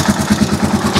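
A Rusi Chariot 175 trike engine idles close up, recently serviced with fresh oil, giving a loud, steady, rapidly pulsing mechanical throb with no voices.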